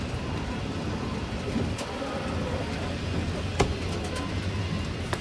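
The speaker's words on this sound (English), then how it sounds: "Here, this is the down escalator." A down escalator running at night at the Hershey Resort in Pennsylvania gives a steady, even mechanical rumble and hiss, continuous throughout, with one faint click near the end.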